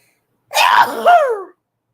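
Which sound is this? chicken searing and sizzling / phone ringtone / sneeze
sneeze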